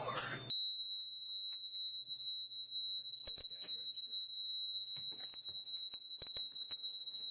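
A home security alarm system sounds after a front door is opened, giving a loud, steady high-pitched electronic tone that holds through the whole stretch, with clicks and faint movement noises underneath.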